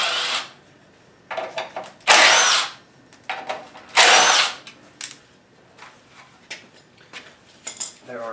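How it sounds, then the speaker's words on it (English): A power driver backs T25 Torx screws out of a 2010-2012 Ford Fusion radiator fan in several short, loud whirring bursts, separated by quiet pauses and light metallic clicks. "there are 3 screws I'm going to take off here. These screws take a T25 Torx."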